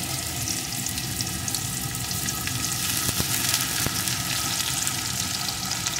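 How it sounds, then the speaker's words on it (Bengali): Chopped onion and green chili frying in hot oil in a pan for pumpkin bharta, giving a steady close sizzle with a few faint clinks and no talking. "এগুলোকে একটু ভেজে নেব।"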